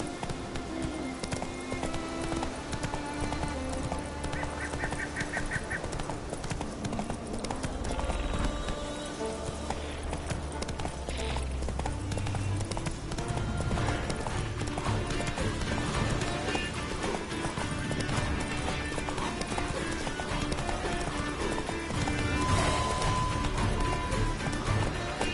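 Geralt's horse Roach galloping in The Witcher 3 on PS4: continuous rhythmic hoofbeats under game music, with occasional snorts and whinnies throughout.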